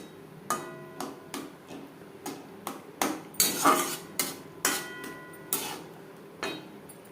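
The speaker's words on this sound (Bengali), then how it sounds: "গ্রেভির সাথে ম্যাগি বেশ ভালো করে মিক্সড করে দেবেন" Metal utensil knocking against a pan while Maggi noodles are stirred into chicken gravy, a steady series of separate sharp clinks and taps about every half second, fairly close, with no talking.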